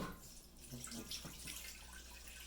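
Raw goat milk pours from a half-gallon jar into a container, giving a faint, steady liquid trickle that lasts the whole short moment, with no voices.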